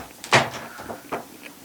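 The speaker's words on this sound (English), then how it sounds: "I'm going to shut the door." A cabin door on a Beneteau First 45 sailboat swings shut with a sharp close thump, followed by a softer latch click and a light rattle, near and clear.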